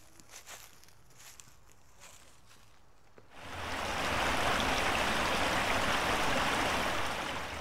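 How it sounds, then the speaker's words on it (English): Burke Brook, a small surface stream in Toronto's Chatsworth Ravine, rushes in a steady broadband wash that swells in after a few seconds of quieter ambience with footsteps, then continues close and constant. "Burke Brook is an example of a stream that runs on the surface"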